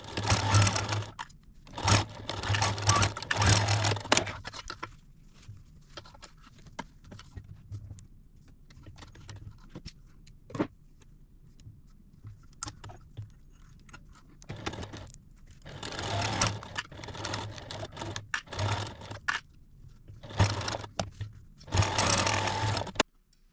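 A sewing machine stitches two potholder seams in several bursts of steady rapid whirring, each lasting a few seconds, with quieter pauses and small handling noises between them.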